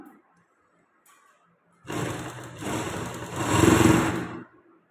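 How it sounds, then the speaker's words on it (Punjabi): A sewing machine stitches a folded strip along the neckline of a Punjabi suit, starting after a near-silent pause and whirring steadily for about three seconds, building slightly louder before it stops. "ਥੋੜਾ ਜਿਹਾ ਮਾਰਜਨ ਛੱਡ ਕੇ ਸਲਾਈ ਲਗਾ ਦੇਣੀ ਆਪਾਂ ਨੇ"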